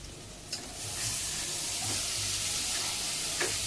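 Tempering spices sizzle and hiss steadily in hot oil for Schezwan soya noodle rice, a continuous bright frying crackle with a few sharp spits and stirring clinks, no talking.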